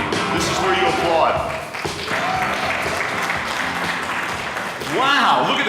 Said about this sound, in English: This is where you applaud.